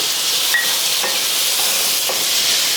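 Tomato sizzles and fries steadily in a hot pan with vegetables for a rice lunch-box dish, a dense hiss with a few faint stirring clicks and scrapes.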